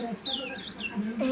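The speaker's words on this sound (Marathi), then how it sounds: "हे बघा आमचे पक्षी" Pet birds and their small chicks cluck and chirp up close in a steady run of high, wavering calls over a constant background hum.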